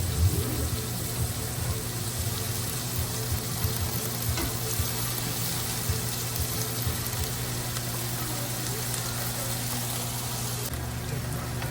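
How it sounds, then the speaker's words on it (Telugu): Soaked sago frying in a pan for a Hyderabad-style pumpkin sheer, a soft continuous sizzle with faint stirring over a steady low hum, fairly quiet, with no voices. "అట్లా అది వేగుతున్నప్పుడు మనం నానబెట్టుకున్న సగ్గు బియ్యం వేస్తున్నాను"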